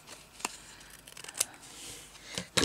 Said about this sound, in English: I have to cut this off straight first too, because I'm going to have to put a bit of trim across here.